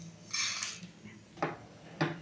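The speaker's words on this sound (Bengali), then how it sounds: "ভাজা হয়ে গেছে, আমি ঢেলে নেবো একটা বাটির মধ্যে।" Roasted whole cumin seeds are poured from the pan into a bowl in a home kitchen, giving a quick rattling pour followed by two sharp clinks of metal against the bowl.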